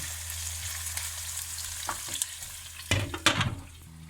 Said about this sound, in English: So while the onion is frying, kids, remember to always stir it so that it doesn't burn.